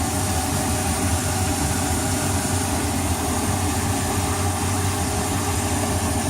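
A boat engine running steadily after a hard-start and low-RPM repair, a continuous even idling drone with a low rumble and faint vibration, no voices.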